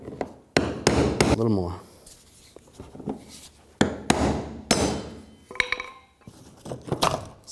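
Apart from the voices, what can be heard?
hammer striking brass punch on fuel pump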